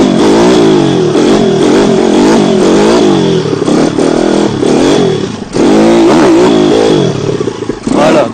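A dirt bike motorcycle accelerates hard in second gear, its loud, close engine revving steadily for several seconds, dipping briefly as it shifts, then surging again.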